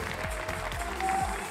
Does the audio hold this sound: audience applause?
yes